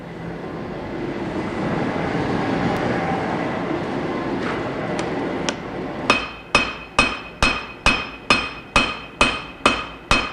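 A heavy cross-peen hammer forges a wootz steel knife on an anvil: after several seconds of loud roaring background noise, about nine sharp ringing blows land in a steady, evenly spaced rhythm, close and loud.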